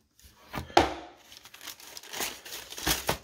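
Crinkling and tearing packaging as a boxed pair of Nike Air Max III Eggplant sneakers is unwrapped, with close, irregular rustles and paper crackles that come in short bursts, some louder, with no talking.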